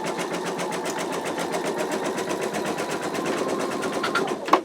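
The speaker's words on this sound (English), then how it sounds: "now it's going to stitch this arc portion" An embroidery machine stitches an arc on an in-the-hoop wallet, a steady rapid needle chatter running without pause, fairly close, with a brief louder clack near the end.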